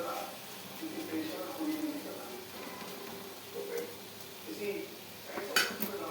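Capsicum curry stirred in a pan, with soft scrapes and clinks of a spoon against metal in a light repeating rhythm under a faint sizzle, while a person talks.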